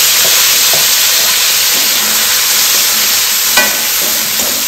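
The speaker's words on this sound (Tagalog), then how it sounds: "Slightly golden brown na ang bawang. Ngayon na po natin ang kamatis at sibuyas." Garlic, tomato and onion sauté in a wok for pinakbet, a loud, dense hiss of frying oil right up close with a few soft stirring knocks, no one speaking.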